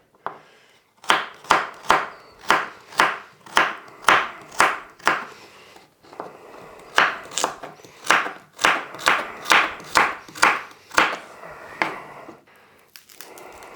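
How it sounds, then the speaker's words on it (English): A knife dices a carrot finely on a chopping board, giving two runs of rapid, evenly spaced sharp chops separated by a short pause, close and distinct with no talking. "Wants to be diced fairly finely. We don't want big chunks of carrot in there."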